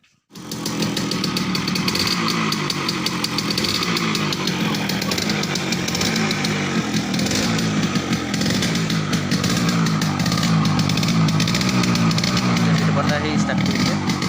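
A Yamaha RX100 motorcycle, an old bike ridden for years and then left parked, runs with a steady, loud, close engine drone that holds evenly for the whole stretch.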